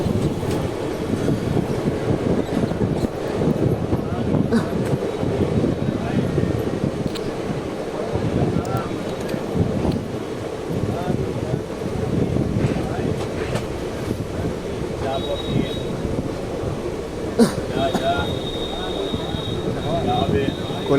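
Bhagirathi Express, Lalgola to Sealdah, rolling slowly through Kalyani station, with a steady loud rumble of carriages and wheels throughout and brief higher squeals near the end.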